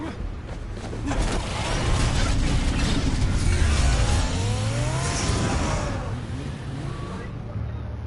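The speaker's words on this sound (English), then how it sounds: "That car goes zoom" Car driving past in the Batman Telltale game: a loud, rising then falling engine roar sweeping close by over several seconds, with tire noise under a dense mix and some talk.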